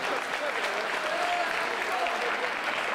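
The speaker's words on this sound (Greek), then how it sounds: "δώστε ένα δυνατό χειροκρότημα" Strong audience applause at a music album launch event, dense, even clapping from a sizable crowd held at steady volume with light vocal murmurs beneath.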